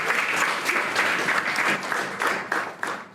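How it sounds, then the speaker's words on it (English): A small group of children clap for each other after a spelling round, close and fairly loud, with uneven individual claps standing out from the patter and no talk. "Give each other a clap, please."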